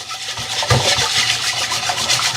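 Close, loud scrubbing on a seasoned cast iron pan, with repeated gritty rubbing strokes in a steady back-and-forth rhythm.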